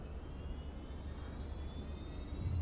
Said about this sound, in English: The APU sounds are really good.